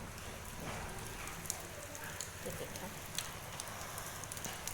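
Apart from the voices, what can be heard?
rain falling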